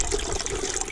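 Spring water pouring steadily from a gravity-fed collection pipe into a small stream, a close, continuous splashing flow.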